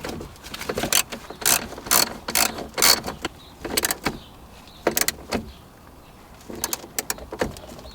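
A ratchet wrench with a 30mm socket tightens a fastener on a 2011 Audi S5 during airbag replacement, giving close, loud bursts of rapid clicking in uneven groups separated by brief pauses.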